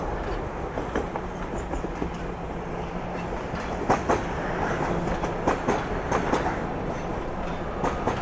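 Trains roll past in Toronto with steady clickety-clack of wheels over rail joints, a loud continuous rumble broken by rhythmic sharp clacks, with no talking over it.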